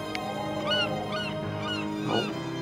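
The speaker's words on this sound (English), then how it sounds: "Oh, another bird." A bird in the video game Dear Esther calls out in a few honking, goose-like notes spaced about half a second apart, moderately loud over a quiet steady background.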